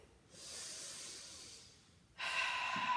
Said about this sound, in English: Inhaling for 5, exhaling for 5.